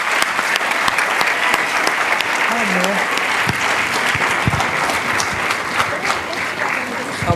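Big round of applause from an audience of students at a knowledge session, a dense steady clapping that fills the room for the whole stretch, with a few sharper nearby claps standing out.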